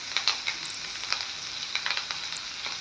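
Fresh curry leaves crackle and sizzle in hot oil for a tempering, a dense close-up frying hiss dotted with sharp little pops.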